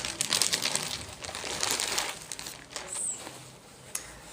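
A handbag being pulled out of a plastic shopping bag, with close, irregular crinkling and rustling bursts that rise and fall over several seconds.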